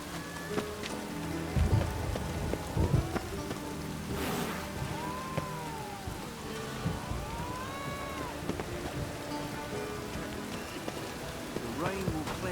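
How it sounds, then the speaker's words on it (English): Steady rain pattering on surfaces in The Witcher 3 video game, a continuous moderate hiss with scattered drips and some game sounds and muffled voices in the background. "I love the air after a good rain."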